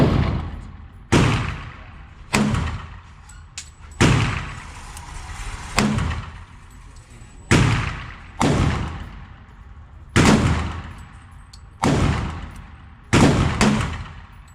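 An FN 545 Tactical pistol fires 45 ACP 230-grain rounds at about 10 yards outdoors, giving sharp, loud single shots at an irregular pace with brief echoing decays between them.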